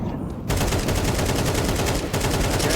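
Rapid bursts of automatic gunfire in Counter-Strike 2 play out in quick succession, dense and loud, with a short quiet gap before the shooting starts and a brief break near the end.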